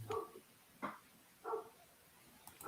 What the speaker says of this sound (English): Someone's dog's out there barking early this morning.